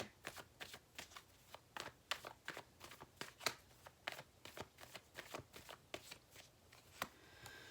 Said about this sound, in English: Let's get 2 cards for each kind of pile that we have going on here.